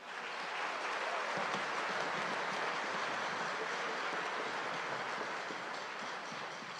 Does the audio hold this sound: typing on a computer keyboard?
no